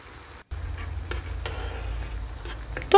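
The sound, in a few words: tomato sauce with chili flakes simmering and being stirred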